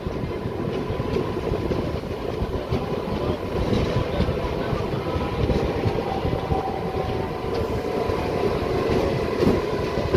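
A MEMU local train runs at Ghatkesar railway station, a steady dense rumble of wheels and carriages with faint metallic clatter, continuous and fairly close throughout.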